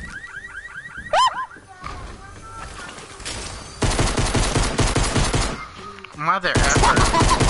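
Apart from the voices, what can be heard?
pistol gunfire in a video game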